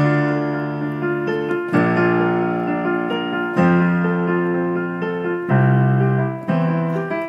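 Piano plays the opening of a song with rich sustained chords, striking new harmonies every couple of seconds over ringing resonance, close and solo without any voices.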